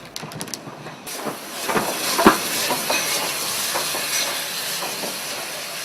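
An industrial steam locomotive, Sagoma, shunting at Mountain Ash in Wales gives off a steady hiss of steam with irregular knocks and clanks, fairly distant and continuous.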